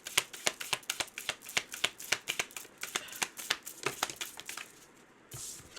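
A deck of cards shuffled by hand in a rapid run of crisp riffling snaps and flicks, close and clear, stopping near the end with a short softer rustle.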